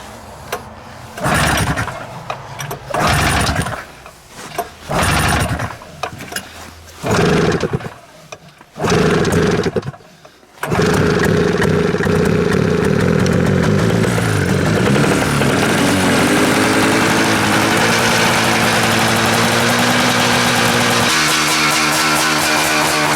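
A 2002 Polaris PRO-X twin snowmobile engine fed by gravity from the tank sputters through several short cranking bursts, then catches and runs loudly and continuously at a rough, uneven idle.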